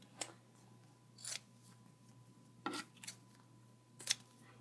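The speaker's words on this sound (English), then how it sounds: "Then I'm going to cut off these edges." Scissors cut the edges off a folded paper craft charm for a keychain: about five quiet, crisp snips spaced roughly a second apart against near silence.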